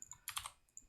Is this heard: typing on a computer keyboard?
yes